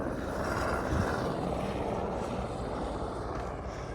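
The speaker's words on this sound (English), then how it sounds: "probably gonna be a lot of those helicopters going in and out" A helicopter flying close by near Everest base camp, its rotor and engine making a steady, loud broadband roar that holds throughout.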